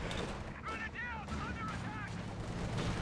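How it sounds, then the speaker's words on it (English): Combat engineers firing in Company of Heroes 2, a dense battle mix of gunshots and booms throughout a short stretch, with a voice talking over the fighting. "Combat engineers firing away."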